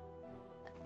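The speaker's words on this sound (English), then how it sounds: "I've been coughing all day." A single short, sharp cough bursts out at the very end after near silence.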